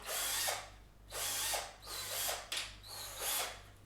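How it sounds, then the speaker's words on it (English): A power drill bores through pre-made holes on a model railway layout, whirring up in four or five short bursts with brief pauses between them, fairly close and with no talking. "Headphone warning, gonna drill through my holes"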